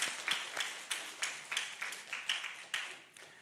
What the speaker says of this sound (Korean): 우리 박수로 한번 격려해 주시죠